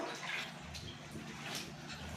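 Clothes being washed by hand in soapy detergent water, with close, steady sloshing and splashing that runs unbroken for a couple of seconds, no voices over it.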